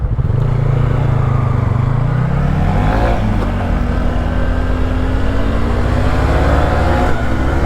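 A new motorcycle engine runs loud and close, holding a steady throaty rumble that rises in a rev around the middle, then settles back to a continuous drone.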